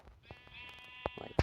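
A sheep gives one drawn-out, fairly close bleat, followed by a few soft knocks and rustles.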